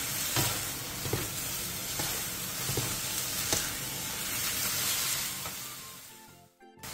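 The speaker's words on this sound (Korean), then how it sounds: "콩나물의 숨이 죽을 때까지 3분 정도 센 물에서 볶아주세요" Bean sprouts stir-fry over high heat in a pan, a loud continuous sizzle with repeated scraping and tossing strokes every second or so, close up and steady until it cuts off near the end.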